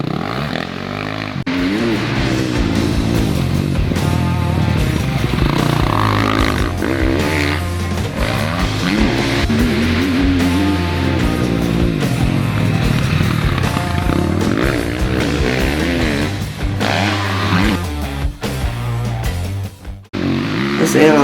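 A motocross bike rounds a hard-packed, slippery, rutted corner, its engine roaring loud and close throughout, the pitch climbing and dropping as the throttle opens and closes, before a brief dip near the end.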